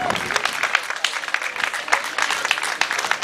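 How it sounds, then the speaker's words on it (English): Warm applause for a festival's board of directors at an opening ceremony, close and lively clapping with individual sharp claps standing out from the crowd's steady patter. "please give them a warm round of applause"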